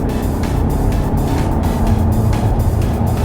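A stock 2015 BMW 118D diesel engine on a dyno power run, a loud steady drone of engine and rollers held throughout, with no break and no talk.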